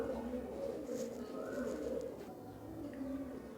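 Royal Teddy pigeons coo in low, steady throbbing calls at a busy pigeon market in Khulna, with continuous crowd murmur and background chatter around them.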